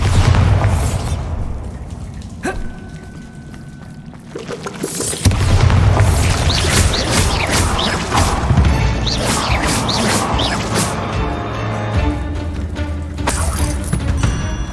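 A Bombarda spell goes off in Hogwarts Legacy as a heavy booming blast followed by crashing, shattering debris and lingering rumble, loud and close.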